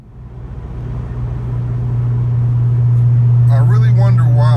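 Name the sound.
2014 Chevy SS car driving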